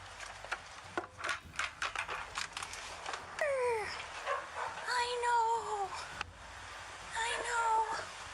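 An aggressive Great Pyrenees dog gives a series of quiet, high, whining barks and yelps. The sounds come in short bursts amid light handling noise and nearby speech.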